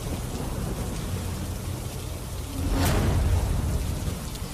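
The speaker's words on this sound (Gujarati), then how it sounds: "ધોધમાર વરસાદ વરસી રહ્યો છે" Heavy downpour in Kalavad during the monsoon, a dense steady roar of rain pounding surfaces that swells louder near the end with a brief sharp crack, continuous and close with no voices.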